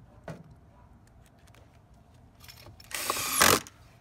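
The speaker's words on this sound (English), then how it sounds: "Go ahead and screw it in." A power driver sinks deck screws into an intersystem bonding bar for low-voltage grounding, a short whirring burst near the end after a quiet stretch of faint clicks and handling.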